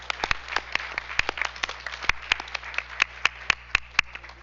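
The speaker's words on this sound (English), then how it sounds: "So let's give them a round of applause." An audience at a school district board meeting claps in a round of applause, with dense, steady, moderately loud hand claps and no talking.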